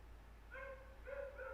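A dog gives a few faint, short barks or yips, quiet and somewhat distant over a low steady hum.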